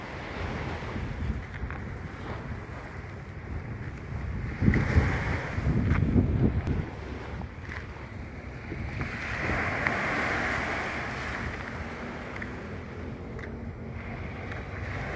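Waves wash in steadily at Nam Rin beach in Thailand under constant gusting wind buffeting the microphone, with a louder surge of surf in the middle and a continuous roar that lasts throughout, no voices.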